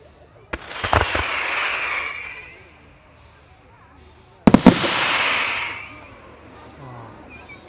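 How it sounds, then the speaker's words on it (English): Marti firework screamers with blue mines and shells at a European fireworks demonstration, Abingdon Firework Festival: two rounds of sharp close bangs, each followed by a long hissing, crackling screech that fades out. "Listen out for these screamers from Marti."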